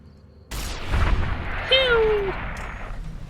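Energy weapon fire in Fallout: New Vegas, one loud blast that rings on, then a bright descending synthetic whine, over low game ambience.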